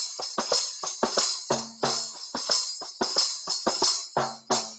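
Kanjira, a small hand-held frame drum played like a tambourine for devotional bhajans, struck in a fast steady pattern of sharp slaps with jingling ring, close and alone.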